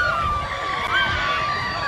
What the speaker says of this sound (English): You can hear the exuberance of the crowd.